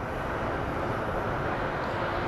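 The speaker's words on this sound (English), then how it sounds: "we have a 737 that just showed up. So he is slowly going to be taxiing to his gate." A Boeing 737 airliner taxiing slowly to its gate at Phoenix Sky Harbor airport, a steady, loud, broadband jet engine roar that holds constant throughout.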